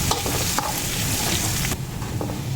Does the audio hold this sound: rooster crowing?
no